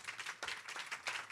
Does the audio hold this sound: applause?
yes